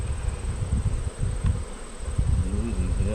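Honeybees hum in a steady, close buzz around an opened hive during an inspection, with soft handling thumps and rustles underneath.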